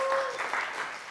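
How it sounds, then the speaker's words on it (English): A man claps for himself during a conference tech talk on Elixir and Nerves, a short, modest patter of clapping over a faint room hum, fairly soft and close. "I'm going to clap for myself on that one"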